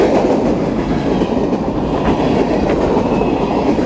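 A freight train rumbles past close by, a loud continuous roar with rattling cars and faint clacking wheels, no voices.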